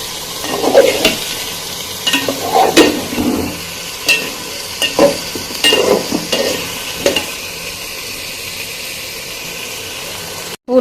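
Cauliflower, potato and mung dal stir-fry in hot oil in a pan, a steady loud sizzle broken by repeated scraping stirs of a spoon for several seconds.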